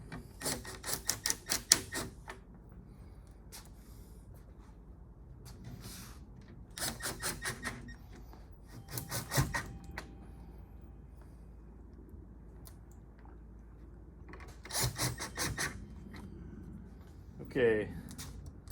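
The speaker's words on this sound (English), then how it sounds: "take our black screws and fasten our diagonal panels to the face frame" Black screws being driven into the diagonal panels and face frame of an RTA lazy Susan cabinet, with several short bursts of rapid power-driver whirring separated by quiet pauses, close by.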